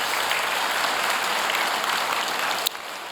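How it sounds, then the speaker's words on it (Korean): A Sunday church congregation gives the Hallelujah choir a round of steady, even applause that carries throughout and drops off sharply just before the end. "우리 할렐루야 생가대를 위해서 한 번 더 박수로 격려하겠습니다."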